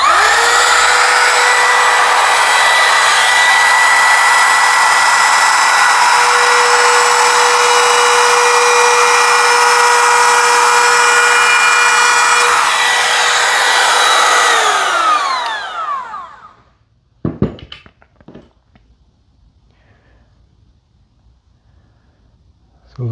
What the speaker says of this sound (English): let's route a 1/8 inch roundover on here. Light comes on, let's go.